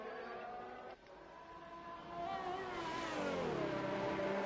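Racing cars lapping a track in a Canadian GP sim racing league, engines revving and shifting through gears, building louder as a car passes close.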